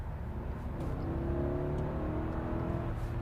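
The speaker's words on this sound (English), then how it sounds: "how does it sound from the inside when I floor it in Maybach mode?" Mercedes-Maybach GLS600 engine under full throttle in Maybach mode, heard from inside the cabin: a muted, steady low rumble and whir rising slightly, quiet and smooth throughout.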